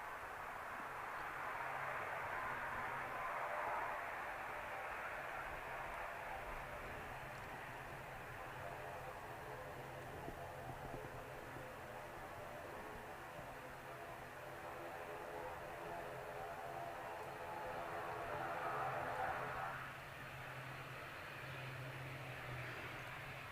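Aer Lingus airliner taxiing at Manchester Airport: a steady, moderately distant engine drone with a tonal whine that swells and fades slightly, continuous throughout with no talk over it.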